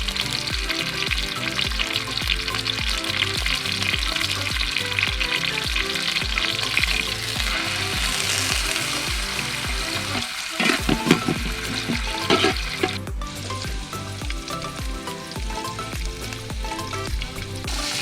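Coconut pieces drop into hot coconut oil for Kerala-style beef peralan, a loud continuous sizzle and crackle with a brief burst of stirring in the middle, no one talking.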